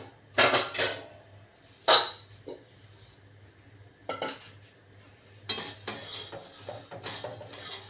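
Coriander seeds dry roasting in a pan until fragrant: a utensil scrapes and clinks against the metal in scattered bursts, with quieter rustling of the seeds between strokes and no talking.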